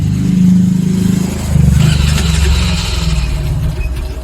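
A Honda Wave 125 LED motorcycle with a very low idle that stalls when the throttle is opened runs nearby, producing a steady, close, low engine rumble with slight fluctuations.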